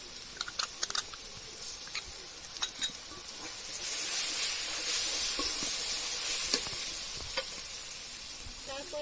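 Chopped onion fries in a pan as chilli powder goes in, a steady close sizzle with light tapping stirs early on, then a fuller, louder hiss of frying.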